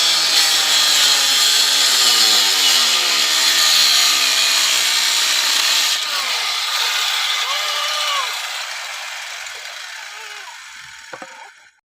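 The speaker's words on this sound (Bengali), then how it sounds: "এই যে তক্তাটা কাটলাম" Wooden planks sawn by hand, a loud, continuous rasping cut close by with rhythmic back-and-forth strokes that slowly fade, ending with a couple of faint knocks as the board is cut through.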